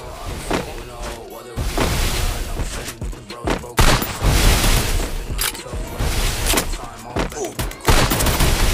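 Rapid bursts of gunfire and booming shots from a shooter video game, loud and dense, with sharp cracks recurring every second or so while players talk over the action.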